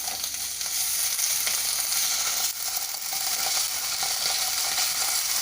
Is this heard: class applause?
no